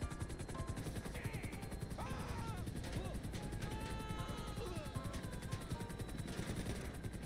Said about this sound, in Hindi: अपने हेलीकॉप्टर पे कुछ लोगों ने फायरिंग कर दी है बहुत ही खतरनाक वाली